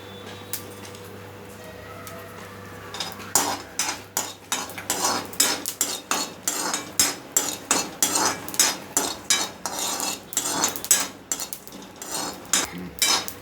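Garlic and cumin seeds dry-roasting in a pan for a garlic chutney, stirred with a spoon; after a quiet start, rapid rhythmic scraping and clinking against the pan, close up and without speech.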